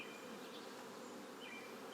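Bees buzz in a hive box, a faint, dense, continuous drone of many insects with no talking.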